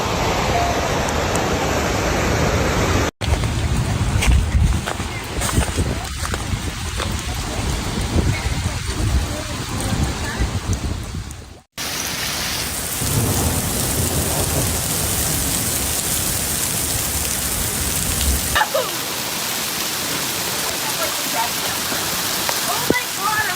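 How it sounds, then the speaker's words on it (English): Heavy rain roars steadily in Meridian, Idaho, during a thunderstorm that brought hail and flooding. The downpour hisses loud and constant throughout, interrupted by a couple of brief sharp breaks and a low rumble, with some muffled voices in the background. "intense thunderstorms dumped heavy rain across the area"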